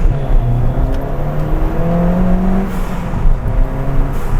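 A Ford Fiesta ST with its stock exhaust drones close by, the engine holding a steady, loud note that swells slightly as it revs.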